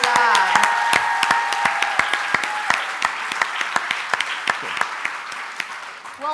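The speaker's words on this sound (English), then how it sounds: "let's give a round of applause for Jacob, Anna, Ruth, Thad." At a 4-H youth rally, a crowd claps in sustained applause with sharp individual claps standing out, fading as a speaker begins talking.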